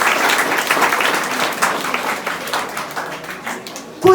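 Applause and clapping from an audience honouring the cooks at a Saint-Pierre community celebration, a steady patter of many hands that fades slightly before a sharp sound at the end.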